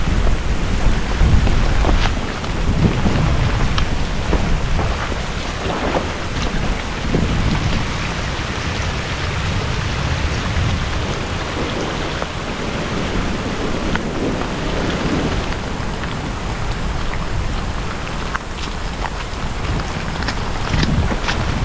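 Heavy rain pours steadily during a thunderstorm with strong wind and flooding, a dense continuous roar with low rumbles and scattered sharp bursts throughout, close and loud with no voices.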